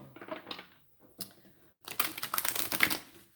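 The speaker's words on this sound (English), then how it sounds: "now I'm going to shuffle the tarot deck" Cards from a Lover's Path Tarot deck are shuffled by hand, giving soft riffling and flicking bursts: a couple of short rustles, a pause, then a denser, longer run of papery clicks at close range with no talking.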